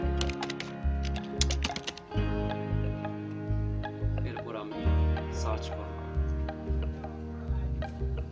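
Keys clack on a computer keyboard as a search query is typed, clustered bursts of close taps mixed with a steady musical backing throughout.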